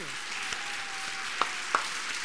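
Studio audience on the French Jeopardy! game show set in 1989 applauding a contestant, a dense, steady wash of clapping with two sharper, louder claps standing out near the end, with no talking over it.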